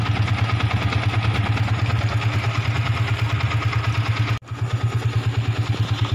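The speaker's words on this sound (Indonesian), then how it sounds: "Nah, ini motor masih hidup ya." A motorcycle engine that runs normally when cold but sputters once hot idles close by with a steady, rapid thumping pulse, briefly dropping out for an instant before the even rhythm resumes.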